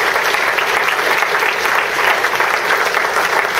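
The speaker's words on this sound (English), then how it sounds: "So give Aaron one more round of applause." An audience at a regional business presentation gives a presenter a steady, dense round of applause that holds at full strength throughout without a break.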